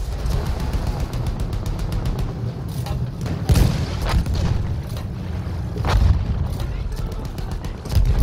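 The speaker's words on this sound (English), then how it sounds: "Blast that gun!" Battlefield 1 combat with dense gunfire and heavy booming explosions, loud rapid shots rattling throughout and several big blasts standing out, with no speech over the din.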